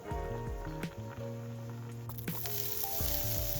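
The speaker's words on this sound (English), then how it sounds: "Heat oil in a frying pan over medium heat. Add the daikon and onion and cook" Steady sizzling and crackling of daikon and onion frying in hot oil in a frying pan, close up, with a few clinks of a utensil stirring.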